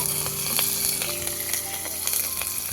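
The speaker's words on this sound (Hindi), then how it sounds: "अब कटी हुई लहसुन की कलियां और साथ में मिर्चें भी डाल देंगे।" Garlic cloves and chilies fry in hot oil with mustard seeds, a steady close sizzle with scattered crackling pops and brief metallic stirring clinks.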